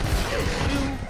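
Rapid turret cannon fire from the video game Spyro: A Hero's Tail, a loud continuous burst of blasts with a low rumble over a second.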